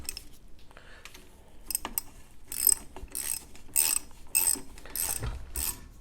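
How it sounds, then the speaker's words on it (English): Spring compressors being tightened on a Porsche 914 rear coilover, a series of quick metallic ratchet clicks in short bursts, close and fairly loud, with brief pauses between strokes. "we've got these compressors equal on both sides. We're just going to tighten them up"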